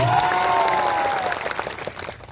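A crowd at an outdoor political rally bursts into sustained applause, loud and dense at first and then thinning into scattered claps, with a tone-like whine over the start.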